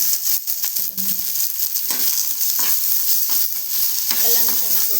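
Garlic and cumin being roasted in a pan, with spatula stirring scrapes and a continuous sizzle, plus intermittent clinks and scrapes of the utensil against the pan, close and clear with no talk.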